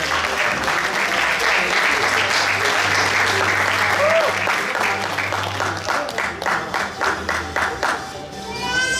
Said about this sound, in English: And relax. A round of applause.